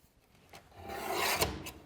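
A paper trimmer slices a strip of paper down to 4 inches during a card-making session: a soft, rising rasp of the blade gliding along, swelling through the middle and ending with a brief scrape, close and fairly quiet.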